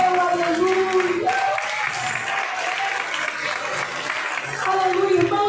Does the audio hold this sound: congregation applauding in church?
yes